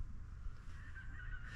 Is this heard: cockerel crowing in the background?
yes